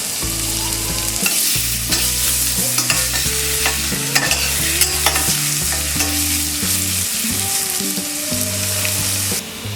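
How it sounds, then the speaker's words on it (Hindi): Crushed garlic sizzles in hot oil while being stirred for crispy chilli garlic potato bites, a steady loud frying hiss with scraping stir strokes throughout, no talking. "तेल गरम हो गया। अब हम इसमें डालेंगे ये क्रश्ड गार्लिक 1 टेबलस्पून"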